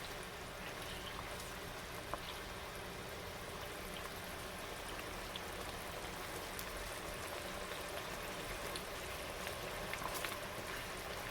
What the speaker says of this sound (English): I'm going to add back in the TVP, the fried TVP. Just going to let that boil up just a little bit longer.